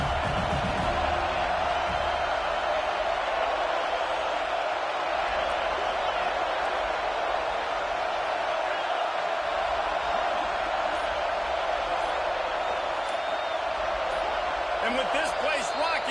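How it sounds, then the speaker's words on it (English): Loud, steady stadium crowd roar at a football game on a fourth-down play, rocking with noise throughout, a continuous wash of cheering that never lets up. "And with this place rocking, the crowd forces a false start."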